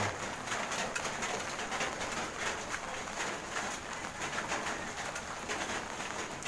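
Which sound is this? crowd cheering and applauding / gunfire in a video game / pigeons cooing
pigeons cooing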